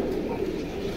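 Caged male pigeons kept for sale coo close by, a low, rolling, throaty murmur that carries on without a break, with faint background voices.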